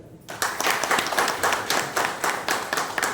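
A crowd at a school batch reunion starts clapping after a brief quiet moment. The applause continues steadily, with rhythmic pulses in the claps.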